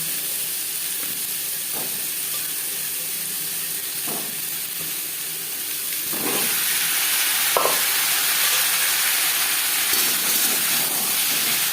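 Potatoes and pointed gourd stir-fry in refined oil, a continuous sizzling hiss that grows louder about halfway through, with occasional soft spatula scrapes and knocks; close, with no one talking.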